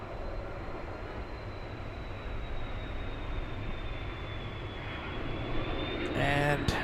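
An airliner takes off from runway 24 Left at LAX, with a steady, distant jet engine roar and a faint high whine holding throughout. A louder burst of noise comes near the end.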